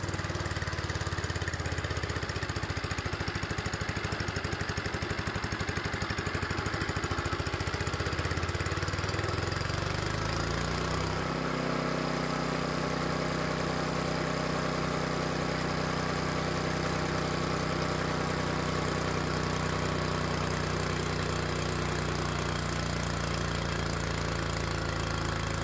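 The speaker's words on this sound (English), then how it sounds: "You can see the engine slow down." A small engine driving a homemade DC generator for off-grid battery charging runs steadily, then drops in pitch and labours as the electrical load is switched on. It chugs on loudly and alone under the strain.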